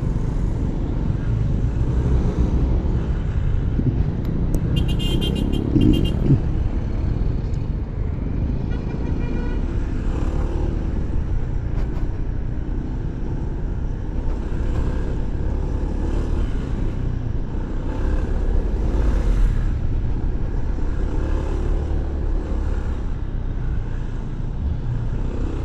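Heavy road traffic of cars and motorcycles on a Philippine road trip, a dense continuous rumble of engines close by with passing motorbike buzz and occasional horn-like bursts, steady throughout.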